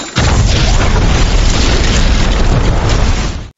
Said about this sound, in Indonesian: secara tidak sengaja dia tersandung jebakan bom yang meledakkan jembatan